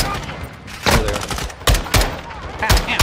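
Enemy gunfire in Call of Duty Modern Warfare II campaign, a series of loud, close single shots at irregular intervals over a steady noisy background.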